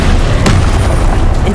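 Confringo blasting spell in the video game Hogwarts Legacy bursts in a loud, heavy boom with a sharp crack near the middle, over dense rumbling combat noise.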